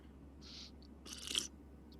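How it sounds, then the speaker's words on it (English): Slurping coffee at close range: two short, airy sips, the second longer and louder, set over a low steady hum with no speech. "Sorry for the slurp. I had to get some coffee."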